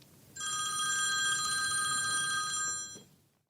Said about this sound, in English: Later that day, my phone rang.